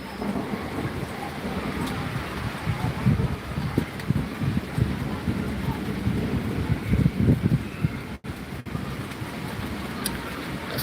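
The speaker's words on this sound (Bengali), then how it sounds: "বৃষ্টির সাথে বাতাস দুটোই একসাথে হচ্ছে" Heavy evening rain with strong wind over Dhaka makes a dense, steady roar that holds at an even level throughout, with no voices.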